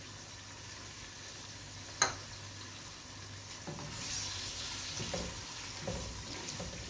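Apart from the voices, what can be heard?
onions frying with cumin and green cardamom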